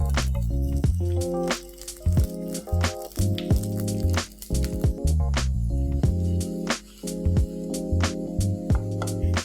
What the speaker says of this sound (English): Let's start placing the patties in the pan.